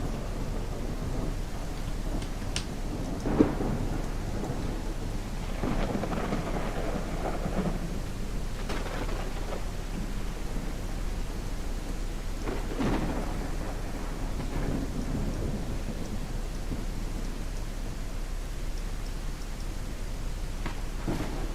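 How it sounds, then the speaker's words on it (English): A video game thunderstorm brings steady rain hissing throughout, broken by several low rolling thunder rumbles and a sharp crack, all fairly loud and with no voices. "God, I love this thunderstorm."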